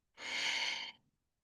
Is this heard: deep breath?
yes